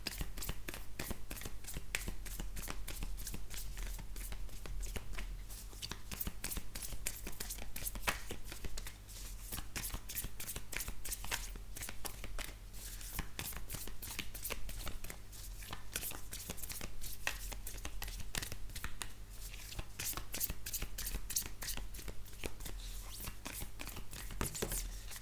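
Tarot or oracle cards shuffled continuously in the hands, with dense rapid riffling clicks and flutters running throughout, fairly close and steady, with no voice over them.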